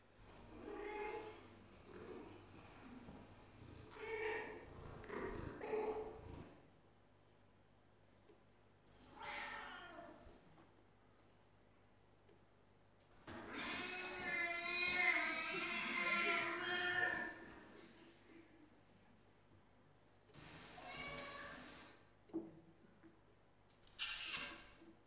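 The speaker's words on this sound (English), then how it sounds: "if cat 2 and 3 are actually living in the same home and are related, and their vocalizations are so very, very different" Recordings of several related domestic cats meowing, played one after another as separate meows and drawn-out calls of varying length and pitch, parted by quiet gaps, with a voice faintly heard at the start.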